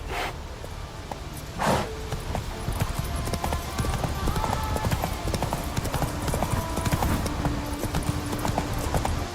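Horse hooves clip-clop steadily in The Witcher 3: Wild Hunt as the rider's horse walks along, a continuous close rhythmic clatter with a brief louder rustle near the start.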